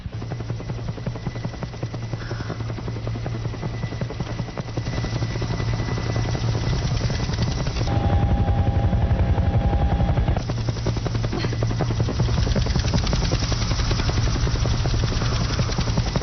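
A hovering rescue helicopter lowers a basket, its rotor thumping in a loud continuous drone that swells and stays steady close by.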